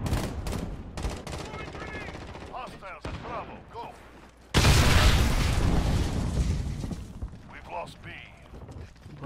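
Gunfire in Call of Duty Modern Warfare: rapid bursts of sharp shots scattered through the first half, then a sudden sustained loud blast of automatic fire and booming, with a voice talking in between.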